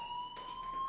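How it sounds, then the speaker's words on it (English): A school fire alarm in the game Life is Strange rings steadily, a continuous electronic tone with a faint background hum, fairly quiet and heard alone without speech. "Hey, do you hear that fire alarm?"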